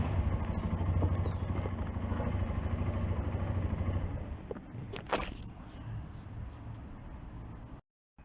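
A motorcycle engine hums steadily in first gear, then the revs rise as the clutch reaches the biting point and the bike pulls away slowly, with a brief louder burst partway through before the sound cuts off.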